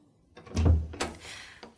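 A door opening and closing in a narrated English-learning audio story set in a hospital, heard as a soft thud followed by a sharper knock and a faint settling click, alone with no talk.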